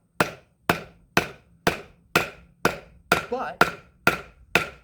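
A knife with a short blade, weak handle and full flat grind chops into wood: about ten sharp, evenly spaced strikes, close and loud, each with a quick decay, with a brief spoken word near the end.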